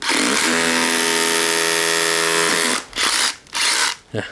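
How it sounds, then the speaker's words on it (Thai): An SDS Plus masonry bit drills into concrete with the drill held one-handed, a loud steady whining roar lasting over two seconds, followed by two short bursts of drilling. "ความเร็วในการเจาะนะครับ"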